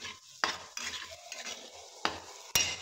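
Masala being stirred in a cooking pan: repeated close scraping and clinking of a spoon against the metal, with sharp knocks at intervals over a soft sizzle, no talk.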